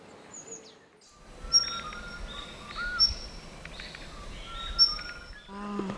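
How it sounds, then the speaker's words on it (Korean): Several birds sing together in a chorus around a quiet mountain temple in Korea, overlapping chirps and whistled notes over a soft, steady background hush. "다시 고요해진 산사를 가득 채운 건"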